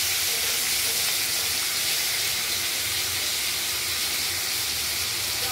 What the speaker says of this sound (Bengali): মশলাটা এর মধ্যে তুলে দিই, ভাজা হোক আলুটা সবাই দেখতে